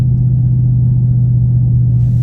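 Loud, steady low engine rumble from a Dodge Charger cruising slowly through a neighborhood, heard up close and alone for a couple of seconds.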